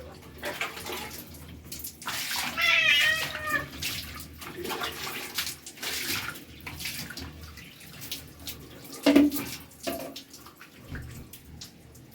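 A cat is bathed in warm water, with sloshing and trickling water, small splashes and a brief louder splash near the end, all close by and without speech.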